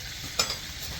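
Steaks fry in a pan with butter and rosemary, giving a soft steady sizzle with one brief sharper crackle partway through.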